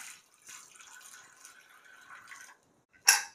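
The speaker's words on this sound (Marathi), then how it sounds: "त्यात थोडं पाणी टाकूया।" Water poured from a vessel into a cooking pot of three raw, partly unripe mangoes with stems removed, a short, fairly quiet splashing pour that stops, followed by a sharper final splash.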